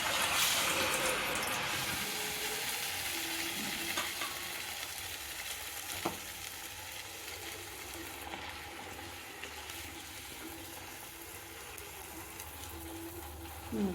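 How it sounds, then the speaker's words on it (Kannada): Jowar vada batter frying in hot oil in a home kitchen, a steady soft sizzle and bubbling throughout, with faint clinks of utensils now and then. "ಎಣ್ಣೆಗೆ ಹಾಕೋಣ ಕರಿಯೋಕೆ"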